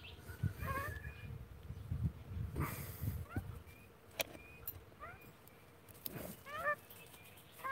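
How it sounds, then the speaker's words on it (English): A pet magpie calls indoors in short, repeated chattering and squawking notes, scattered across several seconds at moderate distance over a low rumbling background. "My magpie kind of gets jealous,"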